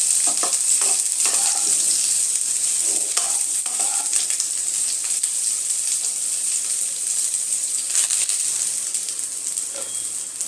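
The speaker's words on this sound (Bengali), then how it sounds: "হালকা একটু লাল লাল করে ফুলকপিগুলো ভেজে নেব।" Cauliflower florets fry in a pan with a steady bright sizzle and hiss, broken by occasional stirring scrapes, close and continuous with no talking.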